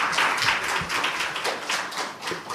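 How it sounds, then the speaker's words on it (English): Audience applause at the close of a conference session, dense rapid clapping from many hands, fairly near and sustained throughout. "Can we have a round of applause, please?"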